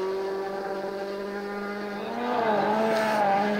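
WRC rally car at Rally Finland 2021 taking a corner: a loud, close engine note rising in pitch, dipping as it brakes and then climbing again under harder throttle, with no talk.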